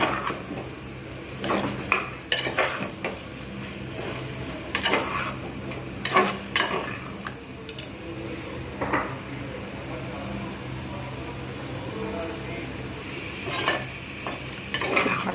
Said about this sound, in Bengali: সব একটু ঢাকনা দিয়ে ভালোভাবে একটু কষে নেবো